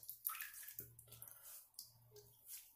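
Razorock Eco safety razor rinsed under running water: a brief splashing, trickling wash with a few clinks and drips, moderately near and soft, without talk.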